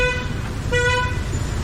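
Car horns honk on a busy Hanoi street, two sustained blasts separated by a short pause, loud and close over a steady rumble of traffic.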